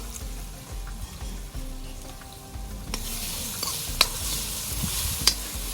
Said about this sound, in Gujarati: ડુંગળી કમ્પ્લેટ ફ્રાય થઈ ગઈ છે